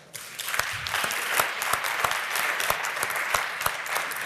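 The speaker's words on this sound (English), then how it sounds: "Please give a round of applause." Audience applause at an EdTech startup final pitch event: a steady, dense burst of many hands clapping at once, holding at an even level for several seconds with no voices over it.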